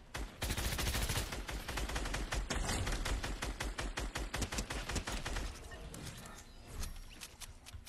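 Rapid gunfire in the battle royale game Fortnite, a long run of sharp, evenly spaced shots that is loud and steady for about five seconds, then fades into sparse, fainter cracks.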